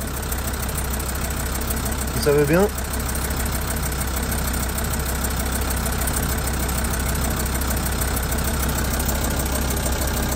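Volkswagen R5 TDI diesel engine idling in a converted van, a steady low drone running continuously, not yet fully warm, with a brief voice speaking over it near the start.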